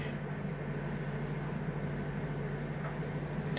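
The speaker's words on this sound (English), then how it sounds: "you can hear the tumble dryer in the background" A steady low mechanical rumble and hum of a tumble dryer running nearby, constant and droning, with no speech.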